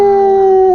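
A dog gives one loud, steady howl, a sustained single note held for under a second with no other sounds around it.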